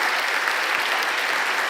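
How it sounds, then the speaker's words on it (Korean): Applause from a church congregation at a teachers' revival service in Daegu, Korea: steady, dense clapping for a visiting pastor, sustained at an even level throughout without pauses. "우리 한번 박수 보내주세요 우리 목사님."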